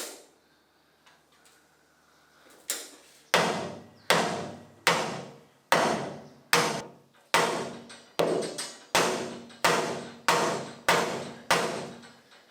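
Heavy hammer blows strike a bolt stuck fast with epoxy on a steel boat, about fourteen loud, evenly spaced metallic whacks with sharp attacks and short ringing decays after a quiet start.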